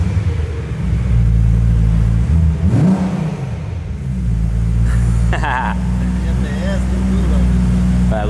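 A crash-damaged BMW M3 idles up close with a steady, deep rumbling engine note, briefly revving once before settling back to idle, while voices talk nearby.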